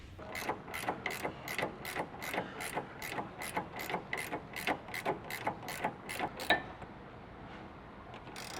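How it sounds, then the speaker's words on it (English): Ratchet tightening the jam nut on an adjustable front sway bar end link of a Nissan 350Z, a quick even run of about fifteen close clicks that stops, leaving quiet room noise. "now I just got to lock down the jam nut"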